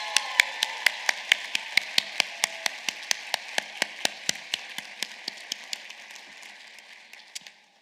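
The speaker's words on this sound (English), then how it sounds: "join me in a big round of applause for our faculty members" Sharp, evenly spaced claps at a university commencement ceremony for the School of Business Administration, sounding like a sparse few hands over a faint steady hum, slowing slightly and fading near the end.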